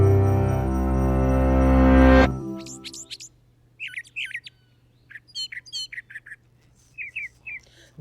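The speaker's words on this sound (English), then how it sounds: "This is a song sung by a brown thrasher" A brown thrasher sings a series of sharp, varied phrases in short bursts separated by brief pauses, clear and fairly close, following a louder, different sound at the start.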